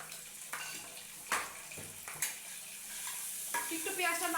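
Onions frying lightly in a pan for egg cutlets, a steady soft sizzle with occasional sharper stirring scrapes and clinks from a utensil, close by with no talk.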